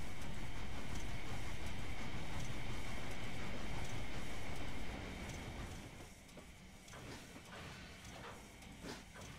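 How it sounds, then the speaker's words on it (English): The engine Duck shunts railway wagons in a yard: a loud, dense rumbling hiss runs for the first half, then drops to a quieter stretch with scattered knocks and clanks. "He noticed Duck shunting."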